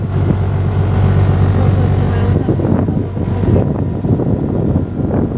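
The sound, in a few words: private boat motor leaving the harbor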